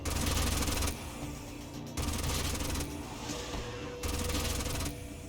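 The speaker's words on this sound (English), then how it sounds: "And this Gatling gun can actually fire from where it is" A Gatling gun fires in the sci-fi strategy game Age of Wonders: Planetfall, with three long bursts of dense rapid-fire rattle broken by short, quieter gaps. The bursts are fairly faint overall and carry no speech.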